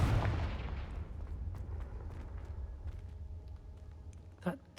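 A Confringo fire spell blasts in Hogwarts Legacy, opening with a loud explosive burst whose rumble slowly decays, followed near the end by a second short, sharp crack.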